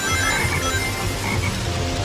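Frog enemies in the video game Sonic Heroes croak in a dense, continuous chorus at steady loudness, filling the background with no speech over it.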